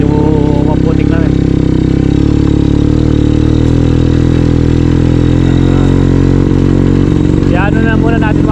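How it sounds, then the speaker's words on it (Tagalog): A motorcycle engine labors loudly at close range on muddy farm ground, holding a steady heavy drone throughout with brief shifts in pitch, while people talk over it. "mahirapan yung motor, medyo maputik na rin."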